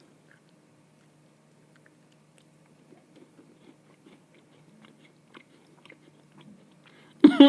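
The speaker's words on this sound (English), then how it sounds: "Let me take another bite." Biting and chewing food during a mukbang: soft, sparse crunches and mouth clicks build slowly from near silence, then a sudden loud, close crunchy bite closes the stretch.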